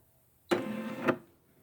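A Brother SE600 embroidery machine shifts its needle and hoop to trace a position without stitching, producing a single short motorized whir of about half a second that starts and stops abruptly, close and alone.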